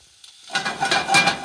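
Sausages sizzle loudly in an oiled frying pan as they are pushed around, a bright crackling hiss that starts after a short silence and builds with scraping movements, close up.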